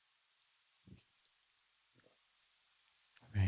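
Rain sound effect from the visual novel game Fate/Hollow Ataraxia: a faint, steady patter of rain with a few soft low thuds, rising to a sudden louder burst at the very end.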